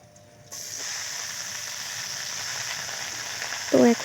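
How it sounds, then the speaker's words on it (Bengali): Malabar spinach dropped into hot oil seasoned with five-spice gives a sudden loud sizzle that holds steady, with a brief clink of a utensil near the end. "এখন এর উপরে আমরা দিয়ে দিব পুঁই শাকগুলো।"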